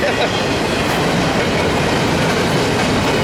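A freight train rumbles past nearby, a steady loud roar of rolling wheels with rhythmic clattering over the rails, no voices.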